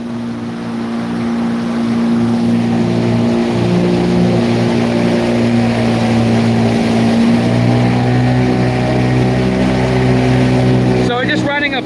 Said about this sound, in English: So we're just running a 15 horsepower Yamaha long leg here.